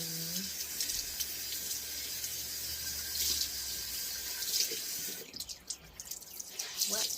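Tap water runs steadily into a bathroom sink, a continuous hiss and splash that shifts near the end as hands or a washcloth break the stream, with occasional drips.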